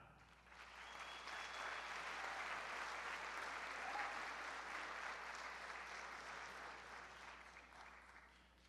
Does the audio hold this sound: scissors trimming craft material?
no